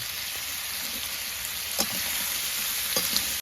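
Food fries in plenty of oil in a pan while khichuri and duck meat are cooked on a rainy-season picnic, a close, continuous loud sizzle with a few stirring clatters and no talk.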